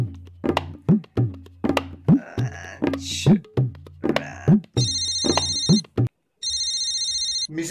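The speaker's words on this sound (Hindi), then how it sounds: "अंकल आपका फोन है?" A telephone ringtone plays at a home birthday gathering: two bursts of steady electronic ringing near the end, following a run of thumps and knocks.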